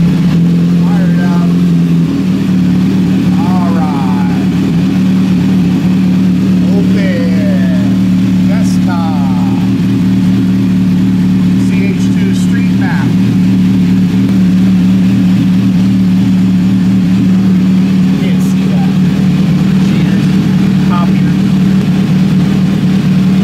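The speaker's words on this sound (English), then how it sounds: "I gotta start the bike. Fire it up." A Kawasaki Z H2 motorcycle with a slip-on exhaust, Dynojet Power Commander and Sprint filter fires up on a dyno, its steady engine drone loud and continuous with brief revs and background talk.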